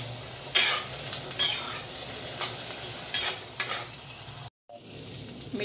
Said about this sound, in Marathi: हे चांगलं मिक्स करायचं, हे पण चांगलं मिनिटभर परतून घ्यायचं।